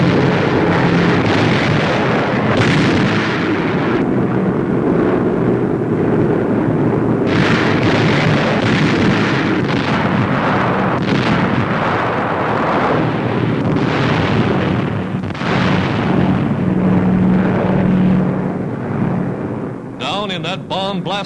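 Archival WWII aerial bombing of Japanese shore positions at Salamaua, New Guinea: a continuous heavy roar of explosions and rumbling blasts fills the whole stretch, loud and dense, with a narrator's voice running over it.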